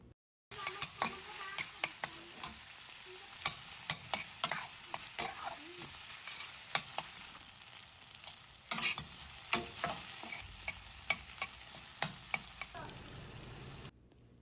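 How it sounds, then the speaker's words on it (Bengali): Garlic and spices stirred and fried in a pan for a hilsa dry fish bhuna, with steady close sizzling and repeated scraping strokes of a spatula against the pan throughout, no talk over it. "আরও আছে রসুন তো সবগুলো আমি একসাথে দিয়ে এগুলো নাড়তে থাকবো"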